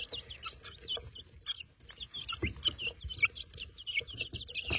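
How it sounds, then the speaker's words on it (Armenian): Chickens, including young red-feathered birds on a village farm, cluck and chirp steadily at close range, the soft calls overlapping in quick irregular bursts over faint low rustling. "Կմեծանան արդեն կհասկանանք ինչ սորտի հավեր են"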